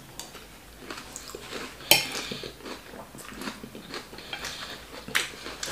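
A spoon scrapes and clinks on a plate while someone eats Nigerian jollof rice with salad, giving soft irregular scrapes, one sharp clink and quiet chewing, close by with no talk.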